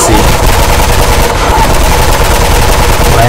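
Sustained, loud automatic gunfire from the video game Mirror's Edge rattles without a break, dense and close, filling the whole stretch with no clear pauses.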